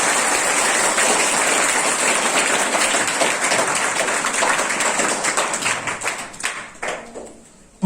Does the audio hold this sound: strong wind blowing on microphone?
no